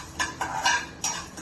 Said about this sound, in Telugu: ఈ ఎండుమిర్చి వేయించుకుందాం. నూనె అస్సలు వద్దండి, ఇట్లా దోరగానే వేయించుకోవాలి